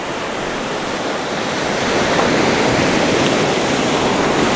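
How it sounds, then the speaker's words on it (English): Sea waves breaking on a beach and around rocks, a broad continuous rushing wash that swells louder partway through and stays heavy and close, with no voices. "the beach going out, waves coming in"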